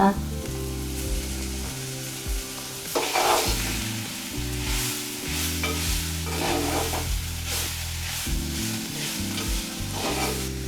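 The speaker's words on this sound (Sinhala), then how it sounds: "දැන් කොස් ගැට ටික එකතු කරන්න" Baby jackfruit pieces stirred into a sizzling tempering, a steady loud frying hiss with scraping stirs, under background music.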